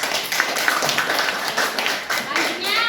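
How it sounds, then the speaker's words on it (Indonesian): A school class claps together in a steady patter for a few seconds, with voices talking over the applause. "Silakan duduk. Tepuk tangan."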